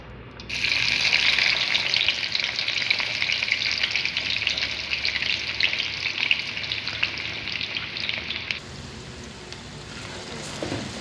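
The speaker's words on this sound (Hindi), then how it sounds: "अब भिंडी वाले ऑयल में हम डाल लेंगे प्याज।" Onions drop into hot oil left over from frying okra and erupt into a loud, steady sizzle that holds for about eight seconds, then cuts back to a quieter background hiss.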